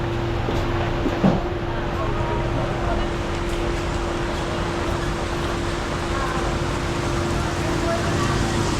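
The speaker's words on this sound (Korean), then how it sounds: "순식간에 또 쏟아지네 비가" Rain pours down suddenly at a Cambodian roadside stop, a steady broadband hiss of heavy rainfall that holds throughout with a faint low hum underneath.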